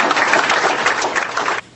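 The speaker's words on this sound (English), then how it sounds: "could I have a round of applause?" A brief burst of audience applause at a political campaign event, many hands clapping loudly and densely for under two seconds before cutting off abruptly.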